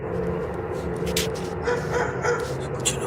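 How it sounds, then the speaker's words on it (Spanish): Dogs barking and yipping at a distance amid a noisy background during an unusual sky-noise event, with short bursts scattered across the few seconds. "Escucho los perros ladrar."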